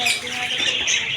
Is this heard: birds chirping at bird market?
yes